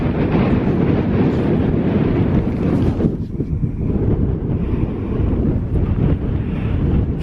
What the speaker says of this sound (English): Trying to block the wind the best I can.